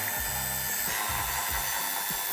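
A power screwdriver takes out the tail light screws on a 2018 Audi Q8, whirring in short bursts that rise and fall in pitch. The sound is close and continuous, with no speech.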